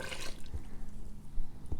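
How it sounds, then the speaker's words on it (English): Water pours into a cooking pot while chili is made, giving a short close splashing and trickling rush with a couple of soft knocks against the pot, and no talking. "Then I'm going to pour the rest of the water into the pot."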